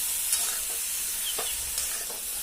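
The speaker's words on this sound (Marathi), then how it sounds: "आणि छान मिक्स करून घेते सगळं" Aubergine and potato curry is stirred in a hot pan, soft scraping strokes over a continuous gentle sizzle, close and brief with no voices.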